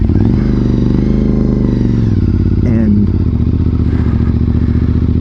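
A motorcycle engine rumbles steadily and loudly up close throughout, with a brief clatter partway through, during a worldwide synchronized group ride event; someone talks over the engine.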